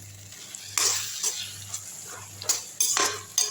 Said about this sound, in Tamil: இன்னொரு 5 நிமிஷம் அப்படியே எண்ணெய் பிரிகிற அளவுக்கு நல்லா வதங்கட்டும்